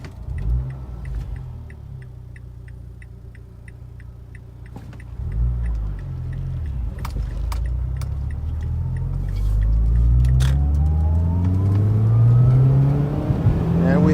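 A Mazdaspeed 3 turbo engine idles with a low rumble, then revs up under boost, the pitch climbing steadily over several seconds, loud and close, with faint ticking in the background.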